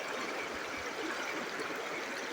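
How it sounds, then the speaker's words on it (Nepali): A rain-swollen mountain river near Darjeeling gives off a faint, continuous rushing murmur in the distance. The sound stays even throughout, with no voices. "पानी तुफान भइसक्यो बाई खोला यता बगिसक्यो।"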